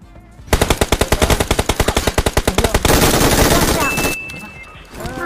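Rapid automatic gunfire from a shooter video game, loud and close, a fast string of evenly spaced shots followed by a dense sustained burst that trails off into quieter game sounds.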